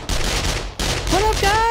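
Rapid automatic gunfire from a drum-magazine gun in 7 Days To Die during a horde night, loud and close, with a brief pause before it resumes and whining tones rising over the shots.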